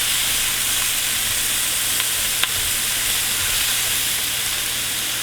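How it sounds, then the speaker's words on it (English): Onions browning and caramelizing in a pot for an old family recipe, a steady close sizzle and hiss with a faint stir or two, no voices. "cook and brown up and caramelize the onions at the same time"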